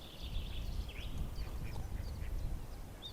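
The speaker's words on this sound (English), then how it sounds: "it really is quite peaceful apart from the warring ducks" Ducks quack in short nasal bursts across a lake beside a golf course, a few calls at moderate distance over faint outdoor background noise.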